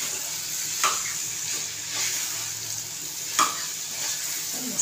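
Cauliflower fries in hot oil in a pan, giving a steady close sizzle broken by a few sharp clinks and scrapes of stirring at scattered moments.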